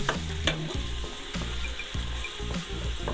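Medium onions frying and browning in a pan for a okra and meat curry, a dense crackling sizzle with repeated stirring scrapes and knocks of the spoon, close and steady, no speech.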